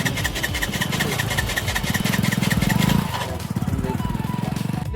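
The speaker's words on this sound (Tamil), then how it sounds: "நம்ம வண்டி ஸ்டார்ட் ஆக மாட்டேங்குது," A motorbike engine labours and sputters as it struggles to start, a loud, continuous rough churning with uneven pulses, close by, with voices talking over it.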